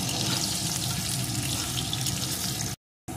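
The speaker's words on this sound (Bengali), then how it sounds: "আলুগুলোও আমার লাল লাল করে ভাজা হয়ে গেছে।" Potatoes frying in hot oil make a steady, soft sizzle and crackle up close, running continuously and then cutting out abruptly near the end.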